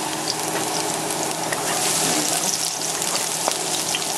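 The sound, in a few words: garlic sizzling as it is added to a frying pan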